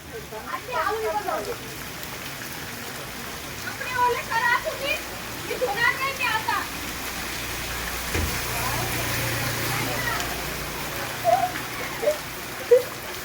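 Heavy rain pours steadily onto a waterlogged, flooded road, forming a constant hiss beneath people talking, with vehicles passing through the water.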